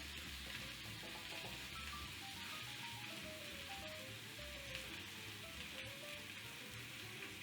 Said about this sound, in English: So we're going to grill this bacon up until it's all the way crispy.